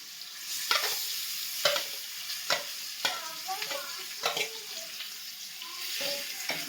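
Marinated chicken for a Nellore-style chicken dish frying in a pan, a soft continuous sizzle broken by sharp spatula scrapes and stirs every second or so, with some wet bubbling between them; no talking.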